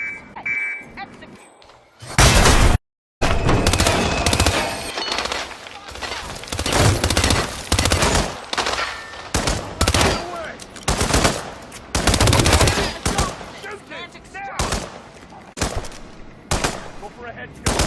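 Heavy gunfire fills a Hitman 2 shooting scene, with rapid bursts and single loud shots repeating close by, plus a brief alarm-like beep early on, and people talk in between.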